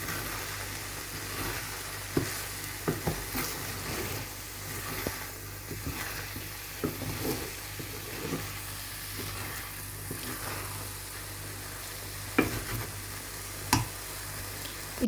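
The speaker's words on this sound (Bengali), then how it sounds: "আর এই আস্তে আস্তে জাস্ট আপনি একটু নাড়িয়ে দেবেন।" Soft eggs cooking in butter in a frying pan, stirred slowly, give a quiet steady sizzle with light scattered ticks and scrapes from the stirring, close and low in level with no talking.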